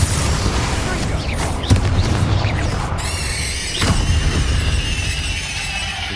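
Bombarda and Confringo spells explode in the Hogwarts Legacy video game as loud booming blasts and bursts over a dense rumble of combat noise, with a voice calling out amid the fight.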